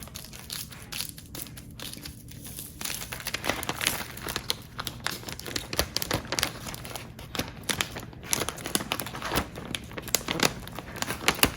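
Transfer paper being peeled off a two-sided DIY Christmas ornament, with a continuous close, loud crinkling and crackling that runs through the whole stretch.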